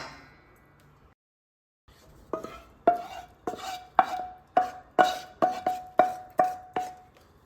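A spoon works through cooked pulihora rice mixed with tamarind pulp and fried tempering spices, giving a series of regular clinking scrapes against the vessel after a brief pause, close and distinct.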